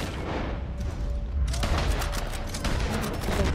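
Video game gunfire with a steady rumble at first, then a dense run of rapid, crackling shots that keeps going to the end, loud and close, with no talking.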